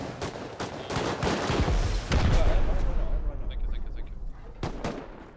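Gunfire in the survival game Rust: dense bursts of shots crackle in rapid, uneven volleys for several seconds, thinning out near the end with a few isolated sharp reports and faint metallic clinks.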